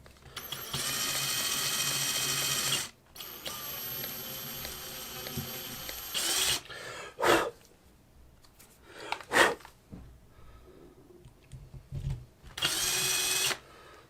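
A power drill bores holes into a Squier Jaguar bass guitar body during a restoration, giving several whirring bursts of varying length separated by pauses and brief clicks of the tool.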